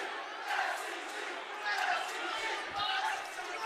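Crowd noise at a high school varsity hockey playoff game in a rink, a steady roar of many voices rising and falling in waves, heard from a distance.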